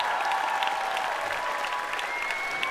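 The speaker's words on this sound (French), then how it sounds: "je vous demande de l'applaudir bien fort" An audience at a live stage show in France claps as a guest is welcomed. The applause is dense and steady, a full crowd clapping loudly throughout without pause.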